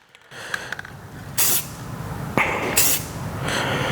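Short hissing bursts from an Army Green spray paint can being sprayed onto a rifle, with several distinct sprays and faint clicks of the nozzle between them, close by.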